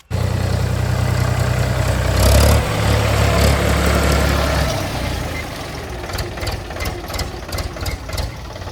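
A tractor engine runs loud and close with a rough, knocking idle that drops to a quieter chug about halfway through.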